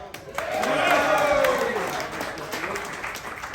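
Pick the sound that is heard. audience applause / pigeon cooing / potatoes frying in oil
audience applause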